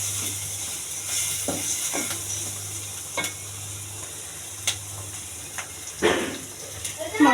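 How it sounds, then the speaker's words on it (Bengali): Ground spices, coriander powder among them, are mixed with salt in a hot pan. Soft sizzling runs underneath, with several sharp scrapes and clinks of a spoon against the pan, the last ones louder and closer. "সব কিছু ভালোভাবে একসাথে মিশিয়ে নেব।"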